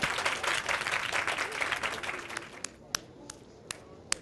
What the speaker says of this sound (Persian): احسن، تشویقش کنین